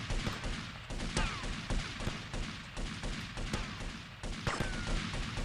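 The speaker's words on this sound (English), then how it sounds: "You have no idea where those guys are shooting from." Dense, continuous gunfire from rooftop shooters in Grand Theft Auto: Vice City, rapid overlapping shots and cracks with crashing impacts, sustained and moderately loud throughout without speech.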